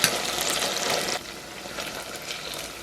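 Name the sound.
eggplant frying in oil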